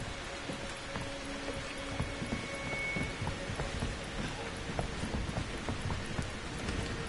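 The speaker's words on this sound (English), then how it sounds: "it's raining blood." Blood rain falls in the horror game Outlast 2, a steady, dense hiss of droplets with scattered patters and taps running throughout at a moderate level, with no voices.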